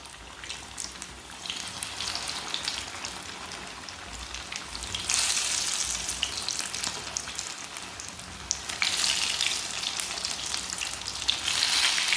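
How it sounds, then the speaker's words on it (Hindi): Wheat flour wheel samosas fry in hot oil, giving a steady, close sizzle that swells louder partway through as they are flipped over. "2 मिनट तक पका लिया मैंने, अब इसे उल्टा लेंगे।"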